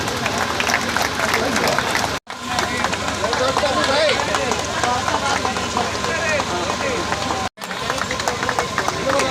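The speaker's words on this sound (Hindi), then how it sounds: "जोरदार तालियां" A crowd claps steadily and loudly while a voice talks over the applause, with two brief cuts to silence.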